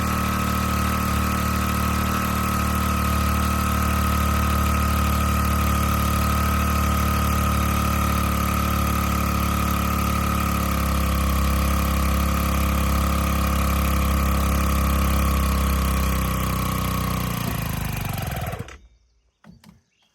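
A gasoline-powered PCW5000 capstan winch engine runs steadily at a loud, constant pitch while pulling a 60-foot fir tree, then cuts off abruptly near the end.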